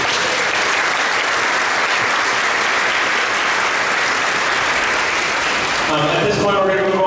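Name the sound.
audience applause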